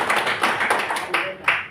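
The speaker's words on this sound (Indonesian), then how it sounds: "tepuk tangan dulu" Scattered audience clapping at a church men's fellowship gathering, a few loose claps forming short uneven bursts in a reverberant hall, mixed with faint talk.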